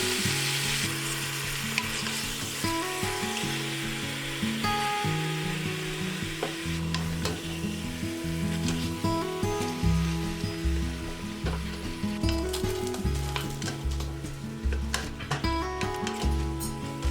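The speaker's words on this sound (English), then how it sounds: "I'm going to let it saute for about 5 minutes. What I want is for the pork to brown on all sides." Pork browning in a Cosori electric pressure cooker on the sauté setting, a constant close sizzle and crackle with scattered utensil scrapes and taps against the pot, some low thumps as it goes on, no one speaking.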